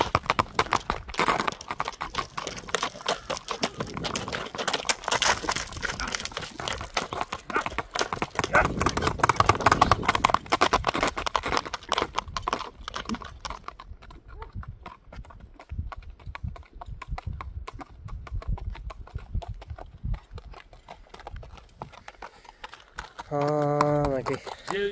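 Horse hooves clip-clop steadily along a road at a walking pace, close and fairly loud, with people talking over the sound throughout.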